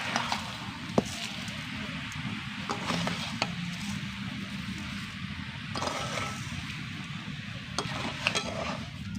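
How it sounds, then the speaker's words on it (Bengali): A spoon scrapes and stirs sugar into hog plum (amra) pickle in a pan: soft, continuous rustling and occasional clicks against the pan, faint and steady throughout. "চিনি আমি দিয়ে দিয়েছি এবার ভালো করে মিশিয়ে নেবো"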